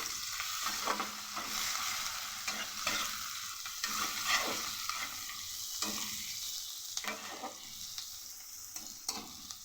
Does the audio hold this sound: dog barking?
no